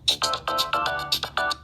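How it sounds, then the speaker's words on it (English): Default ringtone on a Samsung Galaxy J7 phone, a loud, bright melodic chime of repeated short electronic tones in a quick rhythmic pattern, heard alone and up close. "There's the default ringtone."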